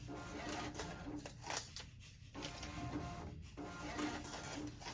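An ATM's built-in receipt printer runs steadily while printing quick settlement receipts, a close, continuous mechanical whir and chatter with brief pauses as the paper feeds.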